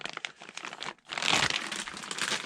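Plastic parts bags for a Kyosho Javelin re-edition RC car crinkle during unboxing, a close, bright rustle that pauses briefly and then returns louder and sustained.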